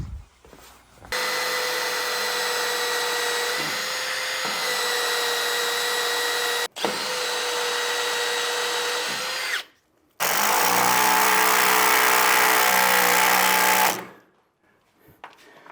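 A power drill boring through steel on a staircase build, several sustained loud whining runs separated by short pauses, with the motor pitch shifting between bursts; no talk.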